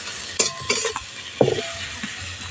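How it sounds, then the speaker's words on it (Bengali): Chopped onions tossed into hot oil in a pan, with soft sizzling under a few sharp scrapes and clinks of a spoon stirring against the metal, up close. "কেটে রাখা পেঁয়াজ কুচিটা দিয়ে দিচ্ছি। পেঁয়াজটা হালকা করে ভেজে নেব।"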